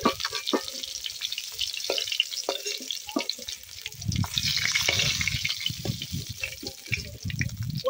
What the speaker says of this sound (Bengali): মাছগুলো আমার ভাজা হয়ে গেছে, এবার তুলে নেব।